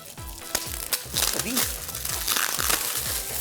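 Gift wrapping paper crinkling and crumpling as a present is unwrapped, with bursts of rustling and tearing under lively overlapping talk and laughter.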